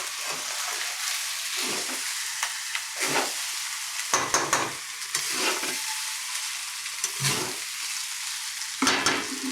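Chicken fries in ghee in a pan, a steady close sizzle broken by repeated scraping strokes of a spoon stirring the pieces, with no talking.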